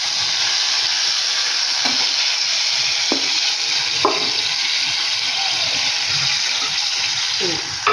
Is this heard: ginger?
yes